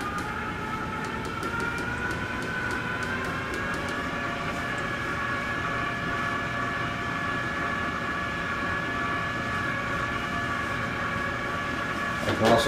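Steady motorized whir of a yarn winder with a tensioner, holding an even drone as it runs faster, with a brief louder rise right at the end.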